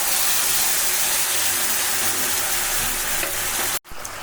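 Garlic and sauce frying hard in hot oil for Korean fried chicken, a loud dense hiss and crackle that runs steadily and then cuts off abruptly near the end, with no one speaking.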